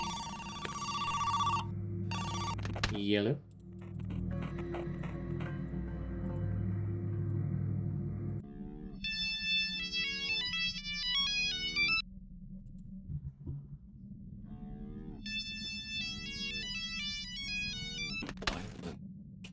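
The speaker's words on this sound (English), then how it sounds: "I know the phone is ringing" In the video game Who's Lila, a phone rings in two bursts of bright electronic trilling tones, following some rumbling and thumping game sounds. A single word is briefly spoken.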